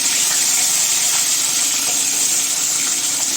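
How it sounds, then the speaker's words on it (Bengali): Steady broadband whoosh of a kitchen chimney exhaust fan running continuously at close range while oil heats in a kadai for frying rui fish, with no talk over it. "চিমনি চলছে বুঝতেই পারছো আওয়াজ একটু কম পাবে তোমরা"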